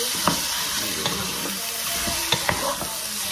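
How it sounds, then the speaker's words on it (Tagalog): Chicken sautéing in hot cooking oil, a steady broadband sizzle with stirring scrapes and a few sharp utensil clicks, close and continuous with no voices. "At igigisa lang ulit natin itong ating chicken guys."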